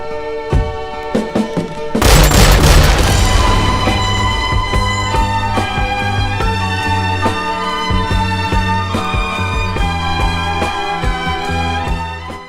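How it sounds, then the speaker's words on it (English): A loud gunshot cracks out in a scene from Inglourious Basterds, followed by a long ringing, echoing tail and scattered smaller impacts. "But the gunshot isn't fatal, so Frederick fires one back"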